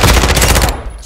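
Rapid automatic gunfire in Call of Duty Modern Warfare, a very loud, close, fast burst of shots that stops abruptly after under a second, with a voice briefly mixed in.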